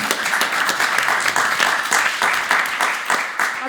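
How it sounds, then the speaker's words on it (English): An audience at a sustainable food forum event applauds, giving dense, steady clapping throughout that stays at a fairly even level. "Big applause"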